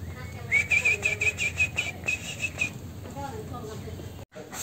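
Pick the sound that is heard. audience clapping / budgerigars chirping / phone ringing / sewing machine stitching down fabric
budgerigars chirping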